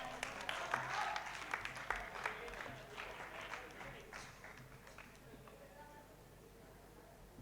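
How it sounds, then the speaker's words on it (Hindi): At a Hindi poetry recital celebrating a 68th birthday, scattered applause from a modest audience claps out briskly, then thins and fades to a few last claps while a voice carries on in the background. "क्या जोरदार तालियां एक आदमी ने बजाई है"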